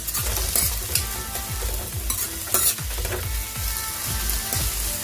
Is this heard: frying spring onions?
yes